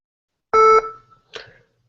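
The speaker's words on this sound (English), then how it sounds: "please leave your message and phone number after the beep" Voicemail system beep: one loud, clean electronic tone lasting about a quarter second, followed by a fainter short blip, with silence around it.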